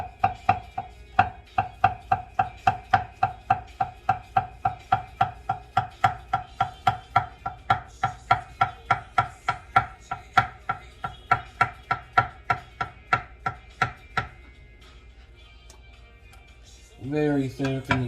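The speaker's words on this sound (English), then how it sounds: "Very thinly slice that cucumber." A knife slices a halved cucumber very thinly on a cutting board, giving a close, steady run of rapid, evenly spaced taps that stops near the end before a short burst of speech.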